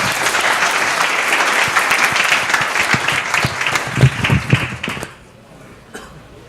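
A conference audience at WordCamp Madrid gives a big welcoming round of applause for a speaker, dense, loud clapping for about five seconds that tapers off into near silence.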